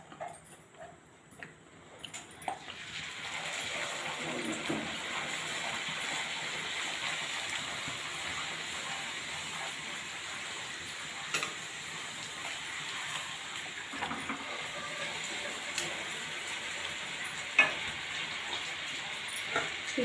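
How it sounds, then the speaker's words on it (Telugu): Food frying in hot oil in a kadai, a quiet steady hiss and bubbling after a short near-silent start, with faint occasional clicks and taps. "కళాయి పెట్టుకున్నాను, ఆయిల్ బాయిల్ అయిపోయింది."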